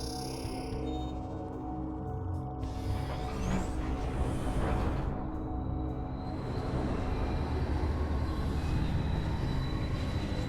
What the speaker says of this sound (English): Let's call for the train.